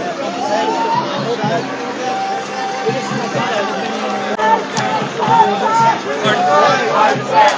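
Dense crowd hubbub at a street demonstration, with overlapping voices, chatter and occasional raised shouts forming a continuous loud babble that swells toward the end.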